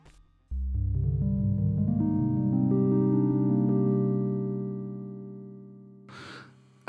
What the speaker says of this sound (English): We're starting off with a sine wave, and it sounds like this.